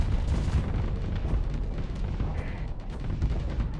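Spaceship weapons fire in the game Starsector, a dense barrage of booms and bursts rumbling on continuously at a loud level with no clear pauses.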